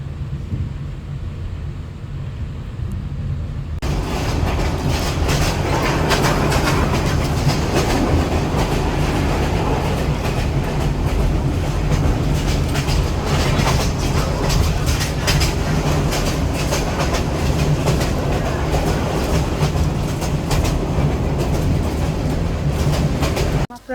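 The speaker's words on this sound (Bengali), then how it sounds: "মাত্র ছাড়লো ট্রেনটা।" A train pulls away late at night and rolls steadily along the rails with loud, continuous clickety-clack and rumbling wheels, heard up close from aboard after a few quieter opening seconds.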